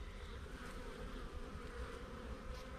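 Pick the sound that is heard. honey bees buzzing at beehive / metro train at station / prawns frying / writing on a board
honey bees buzzing at beehive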